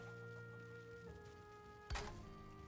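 A hen clucking in the video game Valheim, a short sharp cluck over steady game ambience and tonal background hum, brief and fairly faint.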